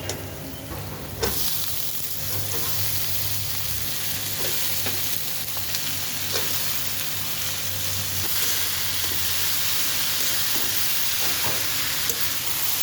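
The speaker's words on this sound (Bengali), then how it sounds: "বাজিটা একটু কষিয়ে এখানে দিব" Potato bhaji being sautéed in a pan sizzles steadily and densely throughout, with occasional scrapes and knocks of a spatula stirring the potatoes.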